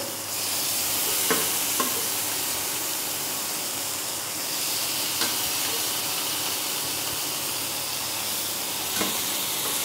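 Salted boiled potatoes fry in a pan with turmeric, producing a loud, continuous close sizzle punctuated by a few sharp clicks from stirring.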